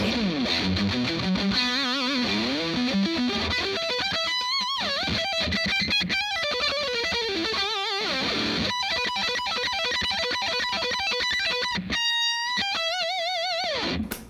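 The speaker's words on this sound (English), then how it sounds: "if I crank it up a little bit and put a distortion pedal on" Heavily distorted electric guitar, a Paul Gilbert PGMFRM1 through a distortion pedal, playing a riff with sustained chords and bending notes, loud and continuous.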